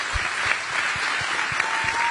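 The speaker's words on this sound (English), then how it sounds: "let's give them another round of applause" A crowd applauds at a presidential campaign event in Pennsylvania, sustained clapping with a steady, rhythmic low thumping beneath it, loud and even throughout with no speech.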